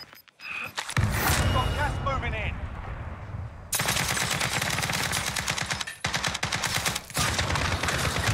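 Rapid automatic gunfire rattles in loud sustained bursts during a Call of Duty Warzone match, with brief pauses between volleys and radio-style voices talking over the start.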